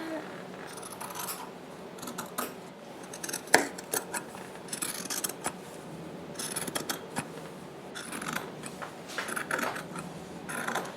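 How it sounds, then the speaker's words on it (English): Scissors snip through fabric for a gathered skirt in a series of crisp, irregular cuts close up, some louder bursts of slicing among quieter rustling, with no talking. "So now I know that's what I have to cut out."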